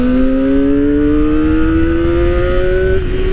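A Kawasaki Ninja ZX-25R SE 250cc four-cylinder engine wails at high revs, loud and close, its smooth, steadily rising note climbing for about three seconds before easing slightly.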